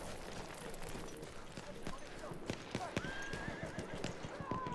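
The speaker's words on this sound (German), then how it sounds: "Ja, das ist noch das Pferd." Horse hooves clip-clopping at a gallop in the World War I shooter Battlefield 1, a steady run of thuds with whinnies and faint game noise, a voice talking lightly over it.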